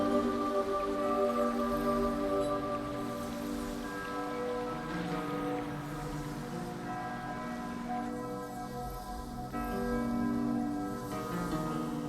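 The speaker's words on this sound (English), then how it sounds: "And the bell tolling in the background to signify it." A bell tolls in Honkai: Star Rail, its deep, sustained ringing layered under a soft musical bed and a steady rain-like hiss throughout.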